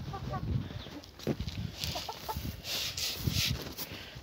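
Chickens, with a rooster among them, cluck and scratch while pecking at farm feed in a coop, a busy mix of close, overlapping clucks and rustling.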